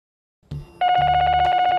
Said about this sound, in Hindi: गांव से माँ का फोन आया।